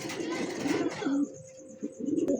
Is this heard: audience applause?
no